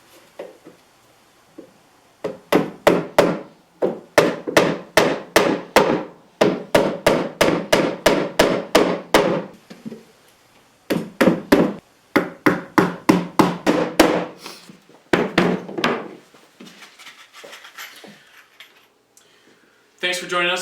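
A hammer drives a nail into wood while the nail is held steady with needle-nose pliers, landing loud, close, rapid strikes in several quick bursts separated by short pauses.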